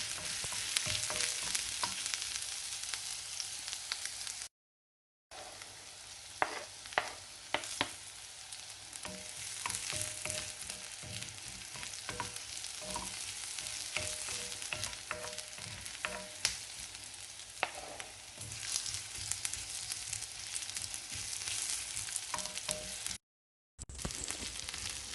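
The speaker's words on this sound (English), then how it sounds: "all you have to do is saute first the ginger, the garlic, and half of the red onion" Ginger, garlic and red onion sauté in a pan for a sizzling spicy squid dish, giving a steady close sizzle with scattered stirring clicks and scrapes and two brief silent gaps.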